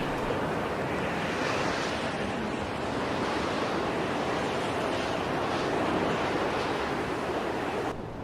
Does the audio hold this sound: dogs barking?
no